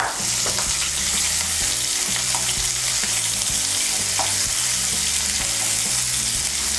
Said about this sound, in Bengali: এর মধ্যে আমি পেঁয়াজ কুচিটা দিয়ে দেব।